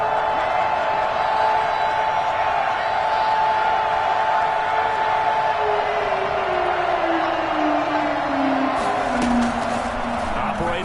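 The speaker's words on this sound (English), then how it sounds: "The crowd getting into it as we come up on a big 3rd down." A steady, loud stadium crowd roar from a football video game builds on a big third down, swelling into a continuous din with a rising cheer near the end.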